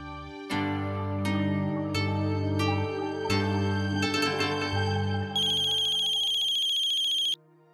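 A phone ringtone plays loud and close, a repeating melodic tune that runs for several seconds and shifts to a higher, brighter pattern near the end before stopping abruptly, with no talk over it.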